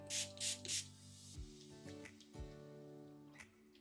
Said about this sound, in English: I'm gonna add some water splatters to this.